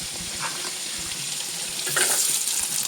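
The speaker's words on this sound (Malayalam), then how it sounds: "അവിടെ എണ്ണ ചൂടായിട്ടുണ്ട്. അപ്പോൾ നമുക്ക് ഈ തേങ്ങാക്കൊത്ത് അതിൻ്റെ അകത്തൊന്ന് ഇട്ട് കൊടുക്കാം." Coconut pieces dropped into hot oil in a home kitchen, frying with a steady soft sizzle that swells louder near the end, with a few faint clicks and no talking.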